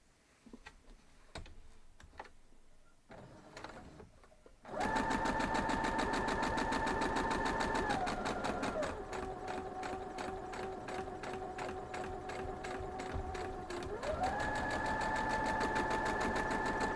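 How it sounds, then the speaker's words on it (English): A sewing machine stitches a seam across a quilt block, a loud, steady rapid hum with pitch shifts as speed changes, after a few seconds of quiet fabric handling. "I'm going to sew from this side so I can try to get it to go right across my point there."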